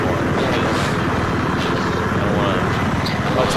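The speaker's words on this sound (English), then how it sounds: "Right, chopper." A Battlefield 3 helicopter in gameplay produces a continuous, loud rotor and engine drone that stays steady throughout while players talk over it.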